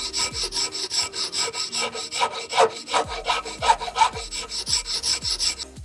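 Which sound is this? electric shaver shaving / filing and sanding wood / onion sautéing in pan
filing and sanding wood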